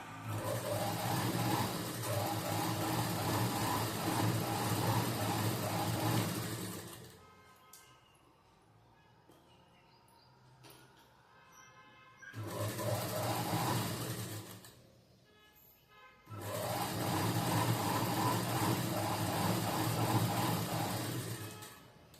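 A sewing machine stitches a blouse with small stitches, running in three loud, steady bursts separated by quieter pauses.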